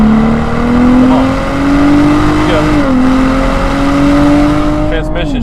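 A 550 hp Hennessey-tuned Cadillac ATS-V accelerates hard down a drag strip, its engine note climbing steadily through a gear shift with a sustained loud roar close by, while a voice talks over it.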